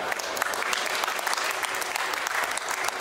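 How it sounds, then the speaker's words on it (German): A Gamescom 2024 audience applauds a panel for X-Out: Resurfaced with dense, sustained clapping that stays loud and close for the whole stretch, crowd-sized and continuous without pauses. "Nochmal einen dicken Applaus, bitte."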